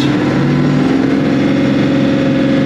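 Tractor engine held at high RPM to drive a flail mower, a loud, steady, close mechanical roar with a constant humming pitch and no pauses or talking.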